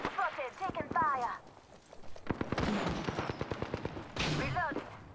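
Gunfire in Apex Legends: rapid bursts of automatic shots crackle in quick succession, loud and near, mixed with game voice callouts and other in-game sounds.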